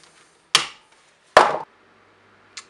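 Snips cutting through a coil of steel wire for chainmail: two sharp, close metallic snaps about a second apart, followed by a fainter click, in an otherwise quiet room.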